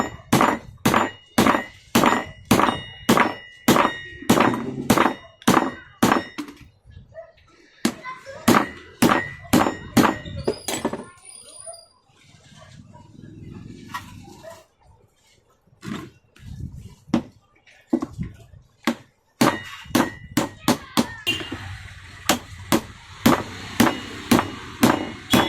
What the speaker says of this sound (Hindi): अब इससे आप बिंदास ठोक सकते हैं।